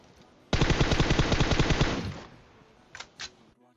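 Rapid automatic gunfire from a video game, a loud sustained burst of about a second and a half with fast even rhythm, followed by a decaying tail and two short sharper shots afterward.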